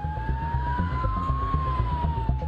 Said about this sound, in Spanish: En una ambulancia con la sirena resonando y a toda velocidad